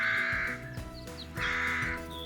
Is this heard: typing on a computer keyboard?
no